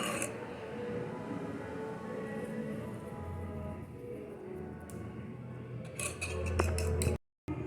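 Eggs and batter beaten in a bowl for onion rings, a steady clattering of utensil against bowl running throughout, with louder knocks near the end.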